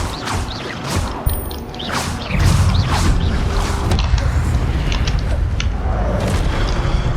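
Spell effects from Hogwarts Legacy, a Levioso levitation charm and an Incendio fire spell, come as a low boom and whooshing burst with mechanical clatter, then a steady rumbling bed of game sound, with no talk.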